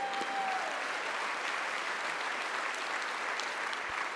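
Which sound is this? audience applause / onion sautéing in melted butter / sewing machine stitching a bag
audience applause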